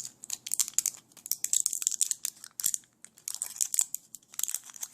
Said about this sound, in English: you're going to need a pair of scissors because it's been sealed for your protection